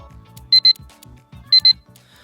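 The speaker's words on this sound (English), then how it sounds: "You heard the alarm go off." Two double-beep bursts from an alarm clock, sharp and bright, repeating about a second apart over quiet background rumble during a Pokken Tournament gaming session.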